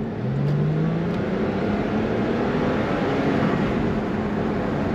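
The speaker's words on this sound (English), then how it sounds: "You hear that engine rev, the turbo kicks in." A 2017 Porsche 911 Carrera Cabriolet engine droning steadily and loud from inside the car, a low rising tone as revs build under throttle, with constant road and wind roar.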